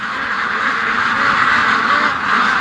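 A flock of ducks quacks continuously outdoors, a dense, loud chorus of overlapping calls with steady wind noise beneath.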